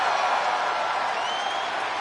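A wrestling arena crowd in the WWE 2K26 video game roars in a steady, dense wash of cheering that holds at an even level throughout.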